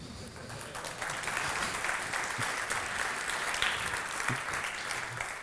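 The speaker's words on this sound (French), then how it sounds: "Vous avez applaudi pour rien" Conference audience at a developer event applauding, a steady dense wash of clapping that holds through the whole stretch at moderate distance, with faint murmurs underneath.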